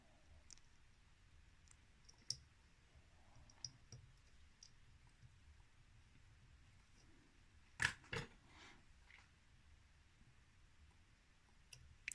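Small scissors snip the thread off a tied fishing fly after the final knot: two quick, close clicks around the middle of an otherwise quiet stretch, with no voices.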